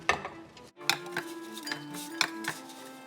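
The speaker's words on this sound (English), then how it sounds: "what I'm gonna do now is put them in a bowl," Air-fried side dish being tipped into a serving bowl, with light clinks of utensil and dish and soft scraping, close and fairly quiet, no talking.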